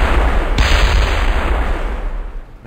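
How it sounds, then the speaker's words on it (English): A loud rocket explosion in the video game Kerbal Space Program, a sharp blast that hits suddenly and then rumbles on in a heavy, sustained roar. "the explosions with the new rockets are just really loud"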